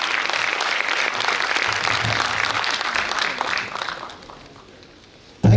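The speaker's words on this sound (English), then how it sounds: "Louder applause, please, come on." Sustained audience applause at a Toastmasters district meeting, dense and fairly loud for several seconds before thinning out, then a brief loud thump at the end.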